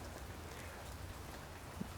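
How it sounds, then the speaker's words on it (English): Rain falls outside a gazebo in Oklahoma, a continuous soft hiss of drops pattering on surfaces with no talking and one small tap near the end. "now it's raining out here"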